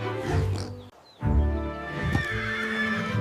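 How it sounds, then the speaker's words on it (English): A horse on a farm neighing loudly and close, a long whinny broken by a brief pause and then resuming with strong, wavering calls. "This is a horse."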